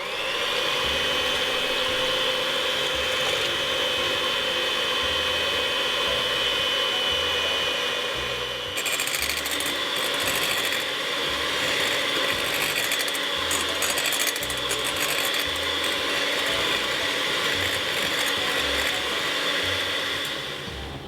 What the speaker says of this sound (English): we're going to whisk up our egg whites until they get white and fluffy.